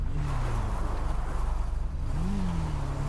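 A motorcycle engine in GTA 5 idles and then revs: a steady low droning rumble whose pitch dips and rises briefly, close and continuous throughout.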